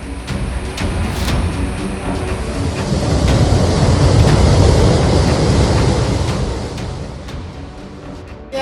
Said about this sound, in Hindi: इस पुल के पिलर से टकराकर कई फीट ऊंची उठती लहरें बता रही थी कि ये दस्तक कितनी खतरनाक है।